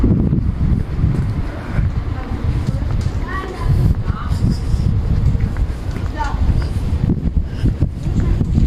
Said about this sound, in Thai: ลมพัดหนาวมากๆเลยค่ะ